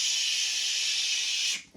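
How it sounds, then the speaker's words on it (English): Flea treatment hisses out of a sprayer in one steady close burst under furniture, lasting about a second and a half before stopping sharply, followed by a faint handling noise. "you're just going to spray under here like this"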